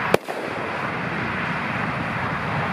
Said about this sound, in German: als nächstes machen wir die Kolpus mit 1 Gramm Blitzknallsatz